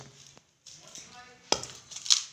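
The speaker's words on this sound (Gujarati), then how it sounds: "મેથીનું કટિંગ ચાલુ છે." A knife chops fenugreek leaves on a kitchen board in a few sharp, separate strokes with short pauses between them. A louder knock near the end sounds like a utensil hitting the board.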